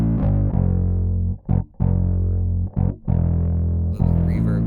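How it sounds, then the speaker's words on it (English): A heavily distorted synth from the Funk Force 5 Kontakt library plays sustained, buzzy tones with short gaps between notes, gritty and loud, with a brief bright flutter near the end. "Maybe we want to add some distortion."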